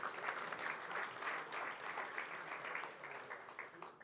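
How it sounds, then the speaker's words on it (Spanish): Dense, continuous applause from an audience at a Rotary Club event in Buenos Aires, a steady wash of many hands clapping at fairly even volume for about four seconds, tapering slightly near the end. "ruego un aplauso por tal encomiable evento"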